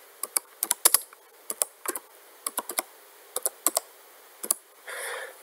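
Typing on a computer keyboard while writing JavaScript code, with crisp irregular key clicks in quick bursts close to the microphone, ending in a brief soft rustle, and no talking.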